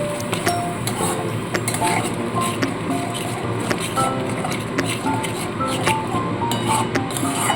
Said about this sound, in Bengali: দই দেওয়ার পর আবারও খুব ভালো করে মিশিয়ে দিয়ে কিছুক্ষণ কষিয়ে নিতে হবে